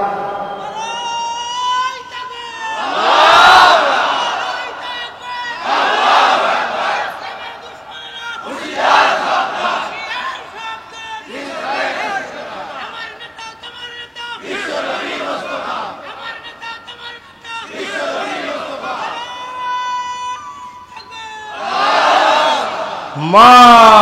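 At a Bangla waz gathering in Shyamnagar, a large crowd shouts takbir in repeated loud collective calls, swelling and fading in waves every few seconds, with a leader's voice between them.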